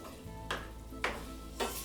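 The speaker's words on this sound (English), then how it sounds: "So I'm just going to stir that as it thickens" A spoon stirs shepherd's pie filling sauce as it thickens in the pan. Three distinct scraping strokes sound over a soft, continuous sizzle, close and fairly quiet, with no talking.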